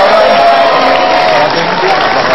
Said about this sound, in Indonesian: tepuk tangan dulu buat Mika, Fatin, dan Novita Dewi.